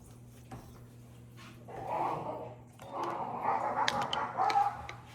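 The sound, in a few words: two dogs playing and barking outside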